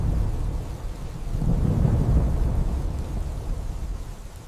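A severe thunderstorm rumbles loud and continuous, deep thunder swelling to a peak midway and then rolling on with steady rain, with no voices.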